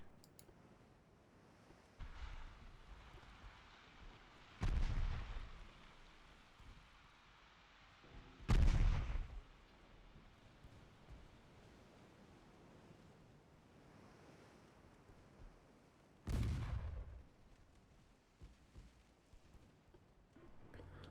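Warship guns fire armor-piercing shells in the naval strategy game Ultimate Admiral Dreadnoughts: three dull, distant booms spaced several seconds apart over a quiet, wind-like sea ambience.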